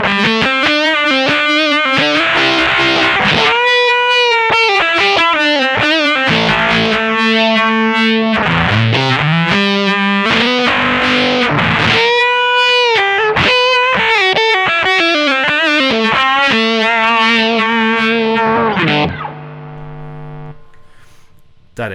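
Electric guitar played through an MP Custom FX Voodoo Vibe pedal with fuzz engaged, loud sustained distorted notes and slides with a swirling pulsing tone, continuous until a fade near the end.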